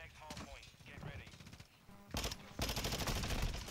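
Rapid automatic gunfire in Modern Warfare 2 breaking out after a stretch of talking, dense loud bursts of shots continuing to the end.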